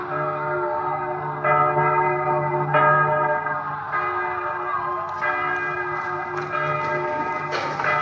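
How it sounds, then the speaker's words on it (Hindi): A large temple bell rings repeatedly with deep, sustained overlapping tones, struck every second or so, resonant and fairly near. "तुम्हें ये घंटी की आवाज सुन के संतोष हो रहा है।"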